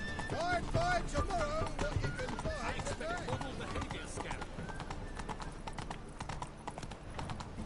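Hooves of Roach, the horse in the video game The Witcher 3: Wild Hunt, clip-clopping in a steady rhythm, with a whinny early on and a voice talking over the start.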